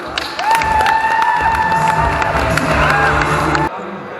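Guests at a wedding in Perth, Australia, applaud and cheer as the best man is introduced, a dense burst of clapping with whistles and shouts that stops abruptly.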